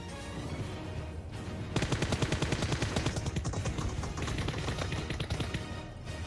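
Rapid bursts of automatic gunfire in PUBG Mobile, a dense rattling stream of close, loud shots that pause briefly and then continue steadily for several seconds with no voices.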